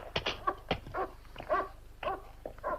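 A dog in a radio drama makes a string of short, close whimpers and yips in uneven bursts, with nobody talking over it.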